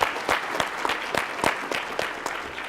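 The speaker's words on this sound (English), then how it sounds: "Give yourselves a round of applause" Conference attendees at an event uplifting Black men clap in a round of applause, a moderately loud patter of individual claps with distinct sharp peaks, fairly close and without speech over it.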